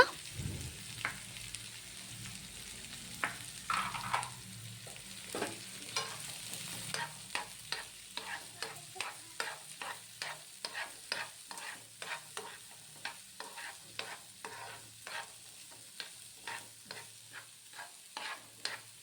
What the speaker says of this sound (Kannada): ಆ್ಯಡ್ ಮಾಡಿಕೊಂಡು ಸ್ವಲ್ಪ ಫ್ರೈ ಮಾಡೋಣ.